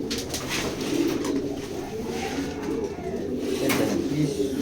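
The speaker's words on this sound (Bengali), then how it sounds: "এখন আমি ডেলিভারি দিতে যাবো কবুতরগুলো দিচ্ছি" Several pigeons being readied for delivery coo continuously nearby in a dense, low, warbling chorus that never lets up, with no talking heard.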